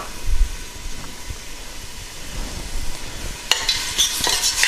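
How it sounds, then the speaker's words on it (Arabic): Onion fries in a pan with ghee, saffron, garlic and spices, giving a faint, low sizzle with occasional stirring scrapes that brighten into a louder hiss near the end. "البصله كتشحر"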